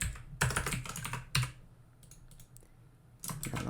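Quick bursts of typing on a computer keyboard, clustered clattering keystrokes separated by short pauses, close and clear with no talking.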